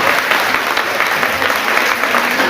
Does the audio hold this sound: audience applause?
yes